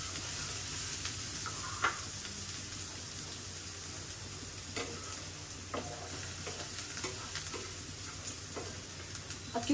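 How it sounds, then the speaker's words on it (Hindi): Ingredients for mushroom chilli frying in a pan, a steady close sizzle with occasional stirring scrapes and clicks and no voices. "थोड़ा फ्राई होने देंगे अच्छे से।"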